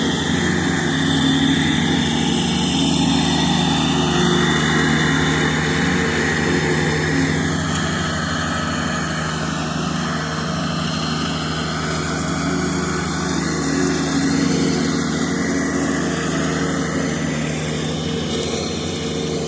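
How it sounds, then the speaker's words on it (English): A lawn mower runs steadily while mowing a yard, its engine drone loud and continuous with an even hum throughout and no talk. "Definitely don't see mowers like that too often."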